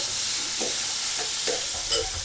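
Sliced onion and mustard seeds frying in hot oil, a steady close sizzle with a few soft stirring scrapes and no talking.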